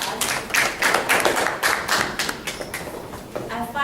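An audience claps for a few seconds in a room, a brisk, close round of hand claps that thins out toward the end.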